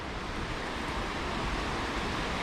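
Steady broadband rush of the Middle Fork Snoqualmie River flowing near a campsite by North Bend, Washington, a constant close water roar with no voices over it.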